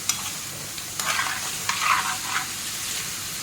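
A spoon scrapes and stirs food seasoned with turmeric and salt in a pan, several distinct scraping strokes over a faint steady sizzle, close and moderately quiet, no speech.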